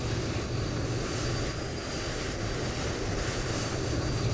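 Loud steady roar of the IAE jet engines on a Fenix A321 in a flight simulator, a continuous broadband rumble and hiss with a faint high whine, holding constant with no talk.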